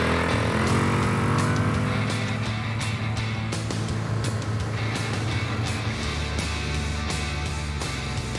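A motorbike hauled off a truck in sandy Australian outback country revs loudly and pulls away, its engine note shifting as it rides off, close and continuous.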